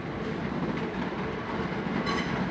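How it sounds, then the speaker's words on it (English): A Great Western Railway Class 387 electric train at London Paddington station, its rolling rumble and wheel noise steady and moderately close, with a brief brighter squeal toward the end. "387156 is at the front of a terminating Great Western Railway service from Didcot Parkway, along with 387154"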